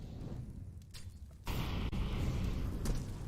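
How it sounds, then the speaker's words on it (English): An HE grenade goes off in Counter-Strike on Dust2 during a pro match, a sudden loud burst that jumps over a muffled game backdrop and holds as a broad roar, with a short sharp crack soon after. "Just evades that explosion."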